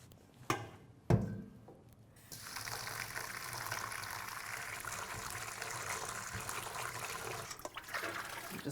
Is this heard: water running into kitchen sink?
yes